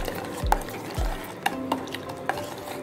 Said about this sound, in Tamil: மாவு போட்டதுக்கப்புறமா இதை கட்டி இல்லாமல் நல்லா கிண்டி எடுத்துடலாம்